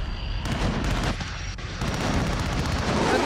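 Rapid bursts of video game gunfire crackle through a run-and-shoot multiplayer match, with dense overlapping shots and booming impacts filling the whole stretch at steady loudness.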